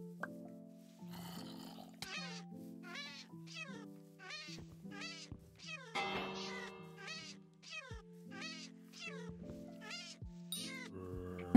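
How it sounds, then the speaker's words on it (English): Cat mobs in Hypixel Skyblock meow and yowl over and over in quick, overlapping bursts, loud and insistent, layered over steady synthesized game music. "Oh my god, the cats again."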